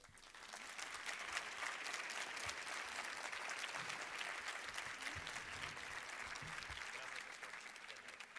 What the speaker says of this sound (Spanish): Les pidamos con un fuerte aplauso al doctor Carlos Montaño